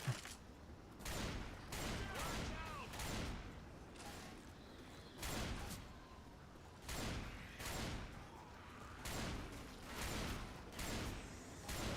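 Video game gunfire crackles in repeated loud bursts, roughly a dozen sharp volleys spaced through the stretch with short gaps between them, and no voices over it.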